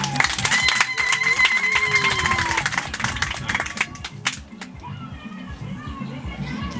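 A crowd claps for the second zone at a foundation's charity gathering, dense applause mixed with children's voices and chatter, loud at first and then thinning toward the end.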